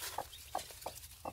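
A Cheongye hen with her newly hatched chicks makes four soft, evenly spaced clucks at close range, quiet and alone over a faint background.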